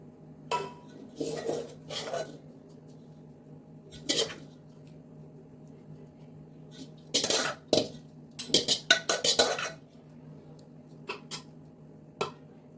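Rice being spooned in layers over masoor pulao in a cooking pot, heard as scattered metallic clinks and scrapes of a spoon against the pot in irregular bursts, with quiet gaps between.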